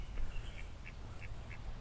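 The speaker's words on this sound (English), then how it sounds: "and this duck." A duck quacks four times in a steady series of short, fairly faint calls beside a garden pond with water lilies, heard over soft outdoor background noise.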